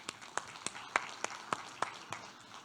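Conference audience at a blockchain panel clapping to welcome a guest onstage, with about nine distinct, evenly spaced claps at a steady beat, faint and somewhat distant, and no talking.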